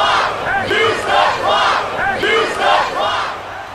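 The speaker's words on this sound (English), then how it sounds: "That is one mean crowd towards Shawn Michaels." A wrestling crowd boos Shawn Michaels during a no holds barred match against Eddie Guerrero, a loud, sustained roar of jeering voices that swells and ebbs in steady waves.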